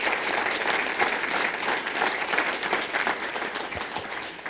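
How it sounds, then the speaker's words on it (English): An awards ceremony audience applauds the finalists and their families, dense, even clapping from a large crowd, loud and sustained with no break. "a round of applause for all of our finalists"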